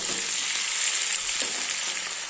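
Paneer and potatoes fry in a pan with a bright, steady sizzle that stays loud and close throughout, with faint crackles and no voices.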